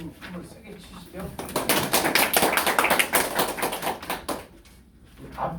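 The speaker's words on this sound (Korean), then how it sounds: "박수 좀 한번 세게 치시죠." Applause from a seminar audience at a high school admissions information session, a burst of dense clapping that swells for a few seconds and then fades, with talking around it.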